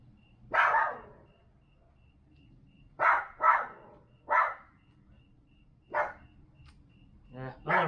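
Someone's dog barks off in the distance outdoors at night, with several short barks spaced irregularly over a few seconds against a quiet background hum.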